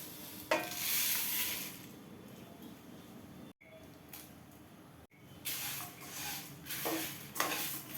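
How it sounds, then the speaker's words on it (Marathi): Whole spices for an onion-garlic masala are dry roasted together in a pan, giving dry rattling, scraping stirs and soft hissing in uneven bursts with short pauses between. "हे बघा सगळा खडा मसाला मी एकत्रच भाजत आहे"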